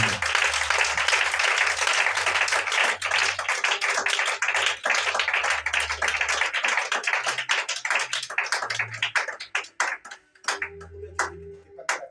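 Congregation applause in a church, dense and steady for about ten seconds before thinning into scattered claps, with a low hum and faint tones underneath.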